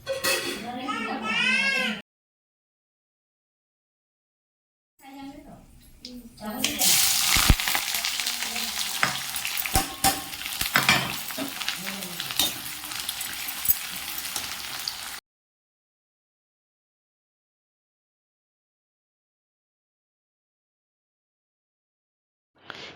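Onion sizzling in hot oil for a country chicken curry, a loud, dense frying hiss from about five to fifteen seconds, with short bursts of talk and a child's cry near the start, then silence.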